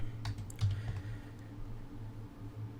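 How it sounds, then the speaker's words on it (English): Fast, light clicking of a computer keyboard as a command is typed, a short quiet burst of keystrokes with a faint background hum. "from here, basically, you type in the command disk part"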